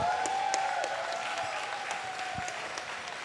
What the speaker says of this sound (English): Let's give a round of applause for Sidnev, folks